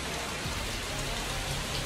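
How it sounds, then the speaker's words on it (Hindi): Steady light rain falls outdoors in Keonjhar, Odisha, a dense even hiss of drops on surfaces, continuous and fairly close, with no voices. "बारिश देख के इसको लग रहा है अभी हल्की हल्की स्टार्ट हुई है"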